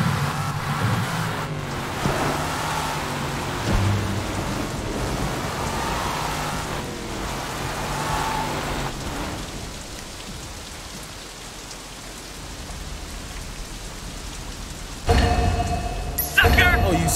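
Steady rain hisses in the open-world crime game Sleeping Dogs, a dense wash of falling drops under a driving scene, loud at first and easing midway before a sharp burst of noise near the end.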